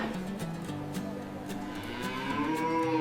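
Dairy cows on a farm lowing repeatedly, several deep moos overlapping and rising and falling in pitch, fairly close, with no talking.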